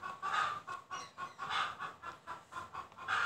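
A hen clucks after laying an egg, giving a nearby series of rhythmic, repeated clucks in steady bursts, each separated by a short pause.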